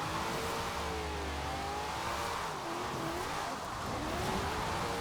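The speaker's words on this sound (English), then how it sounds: "Oh, it just definitely wants to continue spinning its wheels." A lightened American car on sports tires in Forza Horizon 4 revs hard and spins its wheels, a continuous loud engine drone with shifting pitch and tire noise, no talk.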